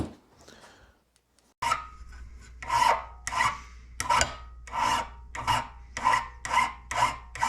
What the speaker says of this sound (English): I just started filing the end of this to start accommodating this